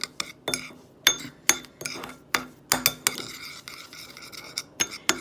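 A spoon stirs coffee scrub and water in a bowl, producing a rapid series of sharp clinks and scrapes against the dish, about a dozen close, distinct hits in an uneven rhythm with quiet gaps between.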